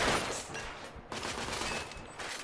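Dense gunfire from The Order: 1886 video game, a continuous fusillade of overlapping shots and bursts that stays loud and close throughout, with no voice over it.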